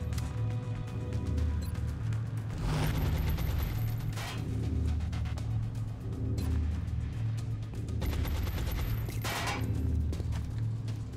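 Gunfire in the turn-based tactical game XCOM Long War: bursts of rapid shots crackle over a steady low rumble of background music, with a few sharper volleys spread through the clip.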